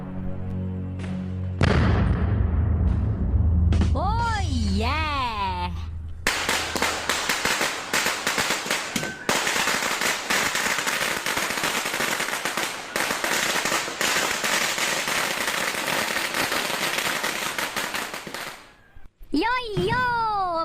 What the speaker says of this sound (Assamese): আলু বম এটা লৈ আহিছিলো লাখুটিত লগাই মাৰি দিয়কচোন বোমা দিয়ক